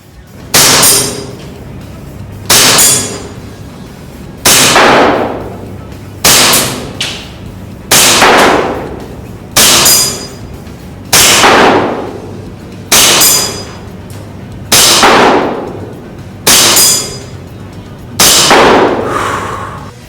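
An RWA SPS Falcon CO2 BB pistol fires about ten single shots, each a sharp, close crack with a short hissing tail. The shots are spaced roughly two seconds apart in a steady rhythm with no talking.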